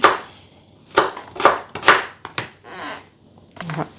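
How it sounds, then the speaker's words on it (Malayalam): Green chillies being finely chopped with a knife for mango salad, heard as sharp, distinct knife taps on a board in small bursts with short gaps, close and clear. "ഒരു രണ്ട് പച്ചമുളക് ചെറുതായിട്ട് അരിഞ്ഞിട്ട് പോകണേ"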